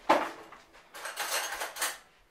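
Metal cutlery rattling and clinking as a spoon is fetched from a kitchen drawer, a sharp clatter followed by several bursts of jangling, close and moderately loud.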